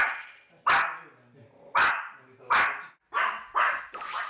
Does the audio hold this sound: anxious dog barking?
yes